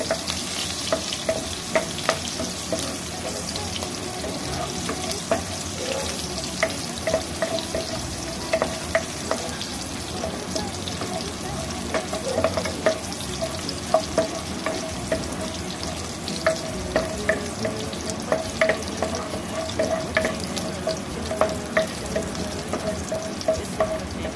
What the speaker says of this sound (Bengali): জিরে দিলাম আর কাঁচা লঙ্কা দিলাম ফোড়নে